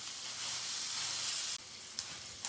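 One pound of hamburger meat sizzles in a pan, a steady close frying hiss that briefly drops as the meat is stirred, followed by a couple of soft scraping stirs.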